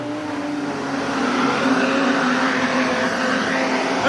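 Street stock race cars on the track at Carina Speedway during a final, a steady loud engine roar that swells slightly as the pack runs down the back straight into a turn, with no talk.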